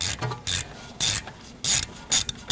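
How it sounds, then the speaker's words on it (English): A bolt extractor on a ratchet wrench backs a loose bolt out of a Mercedes GL450, giving five or six short, close ratcheting bursts in an irregular rhythm with quiet pauses between. "And this extractor works pretty well. So here comes the bolt."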